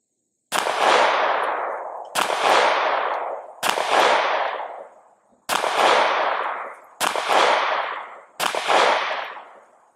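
Six sharp pistol shots from a Springfield Armory Hellcat Pro Comp OSP firing 115-grain rounds outdoors, evenly spaced about one and a half seconds apart, each crack followed by a short ringing decay, loud and close.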